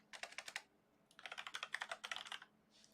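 Keys clack on a computer keyboard in two quick bursts of typing, crisp and close, separated by a short pause, in an otherwise quiet room.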